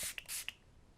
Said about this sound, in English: I got the LA Girl Setting Spray Fix and Set Makeup for extended wear.